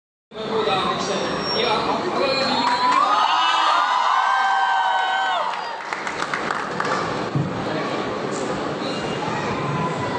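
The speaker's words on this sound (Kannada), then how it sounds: "ಜೋರಾದಂತಹ ಚಪ್ಪಾಳೆ ಬರಬೇಕು." An audience at a public discussion event about the film Kantara breaks into loud, sustained applause and cheering. Shouts and crowd voices mix in before the clapping gradually thins out.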